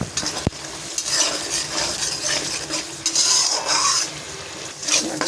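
Masala for a chital fish curry is sautéed in a pan and stirred steadily. A close, continuous sizzle carries repeated scraping strokes of a spoon against the pan, with one sharp knock near the start.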